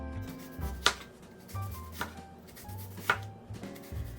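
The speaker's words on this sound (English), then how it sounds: "You're just gonna have to slice up the onions." A knife slices through two onions on a cutting board, giving a series of crisp, close chops at an irregular rhythm with quiet pauses between strokes.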